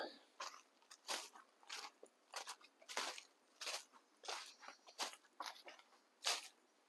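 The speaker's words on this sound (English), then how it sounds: "And lots of leaves and crunchiness, which I love." Footsteps crunch through dry fallen leaves on a small track beside a large oak in the French countryside in winter, a steady series of soft, close crackling steps with no talk.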